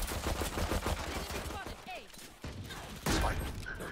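Gunfire from the Valorant video game in rapid bursts, dense and busy, mixed with game effects and a voice talking.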